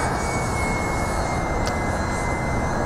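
A model F-105 Thunderchief jet flies overhead with a constant loud, rushing engine roar and a thin high whine, steady throughout and without talk.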